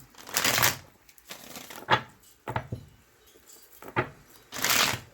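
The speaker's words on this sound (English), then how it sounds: "I know my shuffling is hella fucked up right now." Tarot cards being shuffled by hand in a few separate bursts of riffling and slapping, close and fairly loud, with short quiet gaps between them.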